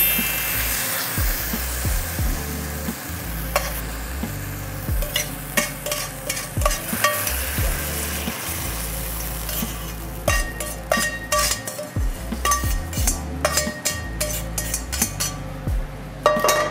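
Noodles stir-fried in a pan with a shredded cod snack, loud sizzling frying under repeated scraping and clattering of a utensil against the pan in an irregular rhythm.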